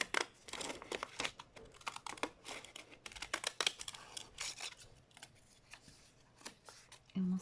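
Scissors snip through paper while trimming a journal pocket, making quiet, close clipped cuts mixed with light paper rustling and crinkling.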